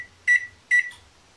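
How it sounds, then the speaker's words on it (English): An oven timer is set for baking cookies at 350 degrees: two loud, crisp electronic beeps about half a second apart, followed by a short fainter chirp, in a quiet kitchen. "Setting the timer for 10 minutes."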